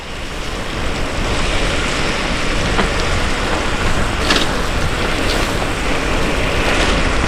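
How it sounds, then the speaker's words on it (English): Steady hiss of rain and rushing wind noise while riding, continuous and fairly loud, with faint clicks and no voices. "we're back in the rain"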